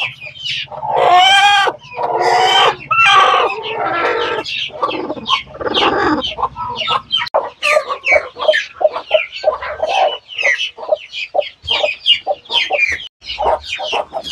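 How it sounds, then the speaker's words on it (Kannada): A brooding native country hen clucks repeatedly up close, a run of short, throaty bursts and drawn-out calls with brief pauses between them. "ಕಾವೇ ಕೂತಿರೋ ಕೋಳಿ ಇದು"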